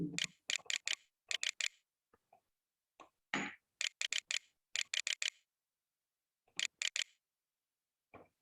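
Clusters of quick, sharp keyboard key clicks on a laptop or computer keyboard, tapped in groups of three or four with short silent gaps between, close and crisp.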